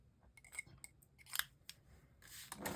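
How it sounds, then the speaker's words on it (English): Scissors snip the edges of a ribbon at an angle, a few quiet, close crisp cuts and rustles of paper and ribbon in a near-silent room. "now I'm going to just cut the edges at a nice angle"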